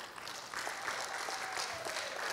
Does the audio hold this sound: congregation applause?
yes